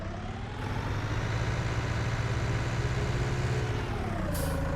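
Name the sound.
tractor engine in a video game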